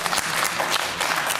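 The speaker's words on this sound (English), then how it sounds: "few people applauding, a few people not so happy with that suggestion" A brief, steady wash of applause from a studio audience at a political debate, dense and close, with no breaks across its short span.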